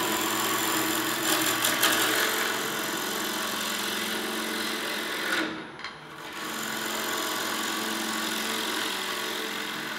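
A gouge cuts into wood spinning on a lathe at a woodturners' meeting, producing a steady, loud, continuous scraping hiss that briefly dips partway through.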